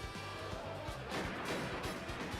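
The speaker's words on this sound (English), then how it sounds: "Dante rolled away from the gunfire and took the safest cover he could find." Gunfire effect in the Piofiore: Fated Memories visual novel, a run of rapid heavy booming shots and crashes layered over dense, loud game music.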